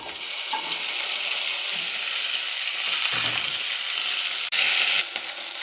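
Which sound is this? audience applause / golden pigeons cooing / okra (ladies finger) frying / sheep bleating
okra (ladies finger) frying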